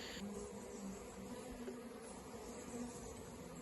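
A swarm of honeybees hums steadily close by while being hived gently, giving a faint continuous buzz with no voices.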